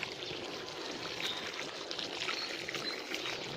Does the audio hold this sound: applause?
no